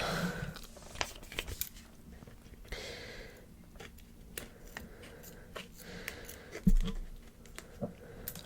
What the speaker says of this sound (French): Me revoilà muni de mes ciseaux, de ma paire de ciseaux.